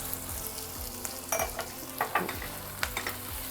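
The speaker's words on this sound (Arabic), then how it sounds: "اخد الكبد والقوانص بتاعتي انزل على البصل عشان اشوحها كويس" Liver and gizzards sautéing over onions in a pan, a continuous sizzle with repeated stirring scrapes and a few sharper pops, close up and alone without talk.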